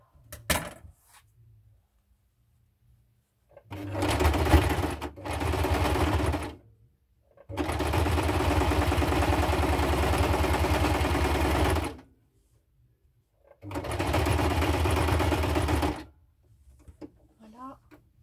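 A sewing machine runs in several sustained bursts of a few seconds each, re-stitching a seam while decorating a small suitcase, loud and close, with brief pauses and small handling knocks between runs.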